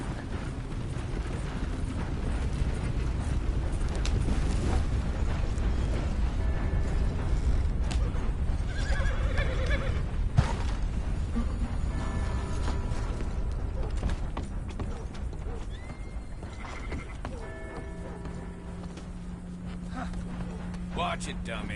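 Horse hooves clip-clop steadily with creaking tack in a PS4 video game, running continuously beneath in-game character dialogue and ambient game sound.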